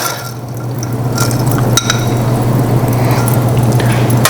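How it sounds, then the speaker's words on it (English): A cocktail is stirred with ice in a glass for about five seconds, giving soft liquid swirling and light clinks over a steady low hum. "I'm going to stir this one for just about 5 seconds."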